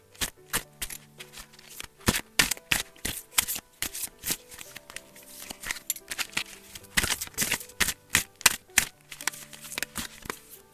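Tarot and oracle cards shuffled and drawn from their decks, a dense close stream of riffling snaps and sharp flicks with brief pauses between bursts, loud and continuous with no one talking.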